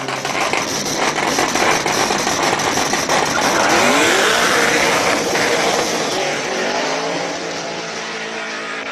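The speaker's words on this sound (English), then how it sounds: "On the line now, we got a 350Z with the LS power." A Nissan 350Z fitted with an LS V8 engine running a hill climb at a Cape Town speed event, a loud, close engine howl climbing and shifting through revs before easing off toward the end, with no voices.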